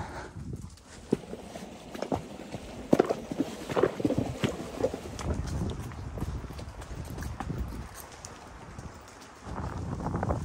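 Horses walk along a mountain trail in the Rocky Mountains in winter, carrying riders and gear, their hooves clip-clopping in an uneven rhythm at close range amid rustling outdoor noise, with no talking.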